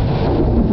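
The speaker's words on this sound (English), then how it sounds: "Come on, where's the thunder? Give me the thunder." Thunder from a lightning storm in Riverside, California, a short, dense low rumble with rain hiss, loud and steady with no speech.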